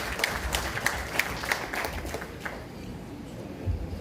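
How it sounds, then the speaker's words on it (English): A seated audience claps briefly at a microcredit launch event, moderately loud scattered hand claps that thin out within a few seconds into room murmur. "Ladies and gentlemen, a round of applause for Miss Baybon Sangi."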